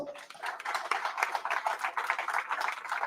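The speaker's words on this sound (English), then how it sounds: "Round of applause for Elvis" Crowd applause at the Wisconsin Riverfest live awards show as a top-10 winner named Elvis is called up, a dense, steady wash of many hands clapping throughout, fairly close and sustained without a break.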